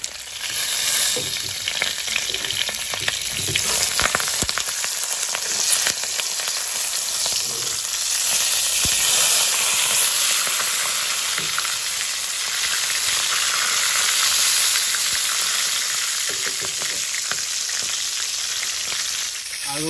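Pork wrapped in banana leaf fries in a little oil in a wok over a low flame, giving a steady, close sizzle that runs unbroken throughout with occasional stirring noises.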